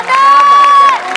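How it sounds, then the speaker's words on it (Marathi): A studio audience at a Marathi comedy show claps and cheers in a steady burst that lasts about a second, with a sustained whistle-like tone running through it. "जोरदार टाळ्या एकदा परत एकदा."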